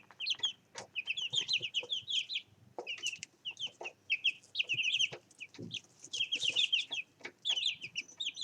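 Chickens and a rooster in a backyard flock cluck in busy, overlapping bursts, close and fairly loud, with short pauses between the runs of calls.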